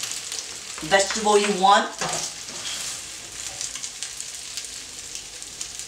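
Bowtie pasta and vegetables stir-frying in a hot pan, a steady loud sizzle running throughout, with a person talking briefly over it near the start.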